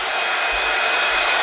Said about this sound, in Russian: Теперь мы берем фен.